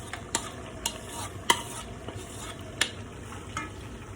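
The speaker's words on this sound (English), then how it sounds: "I'm gonna stir all of this up." A chicken and tomato stir fry is stirred in a pan: a low sizzle runs underneath while a utensil scrapes and clinks against the pan in sharp, irregular knocks.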